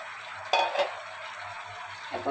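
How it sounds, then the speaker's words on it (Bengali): Diced pumpkin and malabar spinach are stirred in a sizzling pan that was kept covered, making a few quick scraping strokes against a steady low frying hiss. "এখন এই মিষ্টিগুলোর সাথে পুঁই শাকগুলো ভালোভাবে মিশিয়ে দেব।"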